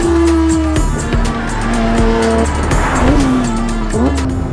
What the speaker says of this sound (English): The sound of a naturally aspirated 4-liter engine